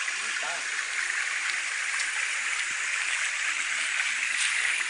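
Spring water flows steadily, a constant close rushing hiss with light gurgles throughout, and no clear talking over it.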